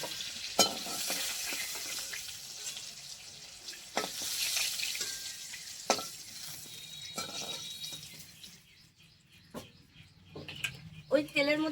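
Nigella seeds, slit green chillies and chopped onion hit hot oil left from frying fish and pointed gourd. A steady sizzle hisses along with sharp clinks and scrapes of a stirring spoon, while a person talks over it now and then.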